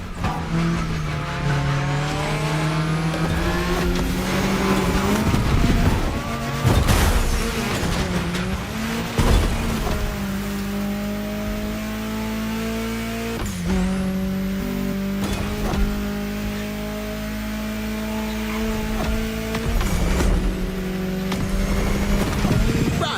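Car engine in The Crew video game as the car drives through a state capital, revving and shifting with rising and falling pitch, occasional tire squeals and thumps, loud and continuous throughout.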